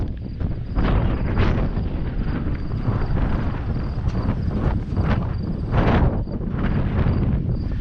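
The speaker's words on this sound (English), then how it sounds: "And it's still windy out here." Strong wind buffets the microphone outdoors along the Enchanted Highway in North Dakota, a loud, continuous rumbling roar with gusty surges throughout.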